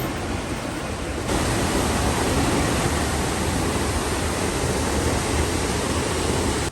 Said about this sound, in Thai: แค่ได้ยินเสียงน้ำตกจากไกลๆนะครับ ก็รู้เลยว่าเราเดินทางมาถึงแล้ว